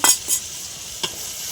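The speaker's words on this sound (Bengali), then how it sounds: "সামান্য একটু জল দিয়ে দিলাম, দিয়ে আরও ভালো করে কষিয়ে নেব।" A spice paste with yogurt and water is sautéed for a rohu curry, giving a short burst of sizzling and two quick stirring scrapes against the pan, close and fairly loud.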